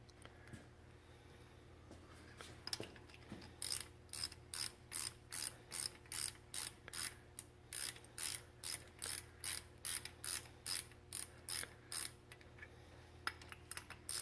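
A distributor drive is wound into a Rolls-Royce Silver Cloud III engine during a rebuild, giving a long run of regular, close ratcheting clicks in steady rhythm, fairly loud and with no talk.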